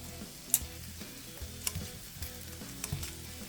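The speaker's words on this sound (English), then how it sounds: "Once one side's a little brown, I flip it to the other side and let the other side sear." Meat sears quietly in a hot pan after being flipped, a soft continuous sizzle broken by a few sharp pops and spatters.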